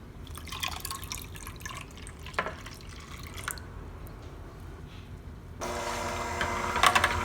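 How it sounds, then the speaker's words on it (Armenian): A cup of warm water poured into crepe batter, first a few scattered drips and clicks, then a steady, louder stream of pouring liquid in the last seconds. "ավելացնում եմ 1 բաժակ գոլից մի քիչ տաք ջուր"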